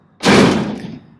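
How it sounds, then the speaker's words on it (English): A 1968 Dodge Charger door with AMD sheet metal shuts with a single solid, close thud that decays quickly. "Our door's shut."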